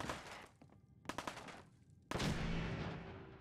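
A Raider fires in the game Fallout 4: a few sharp shots and a quick burst, then a louder blast that rings out and slowly fades, with no speech.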